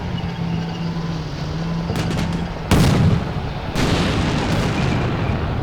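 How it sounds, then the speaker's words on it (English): Combat Mission Black Sea video game firefight with artillery and small arms produces distant crackling gunfire, then two heavy booming blasts with rumbling tails. The bursts are loud and sudden. "This area is well enveloped in a fire fight over here in the corner."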